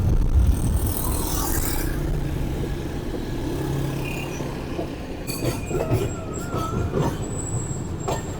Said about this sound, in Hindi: और ट्रेन एक बहुत ही खूबसूरत गुलाई में है इस वक्त